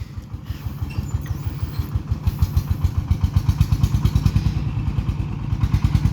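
A Thai e-taen farm vehicle idles with a steady, pulsing single-cylinder putter while its dump bed tips to unload rice, the rhythmic thumping growing slightly louder over six seconds with clattering overhead, no voices.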